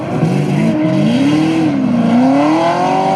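A drift car's engine revs hard and wavers in pitch during a clutch kick at a drift competition, loud and close, alone with no talk.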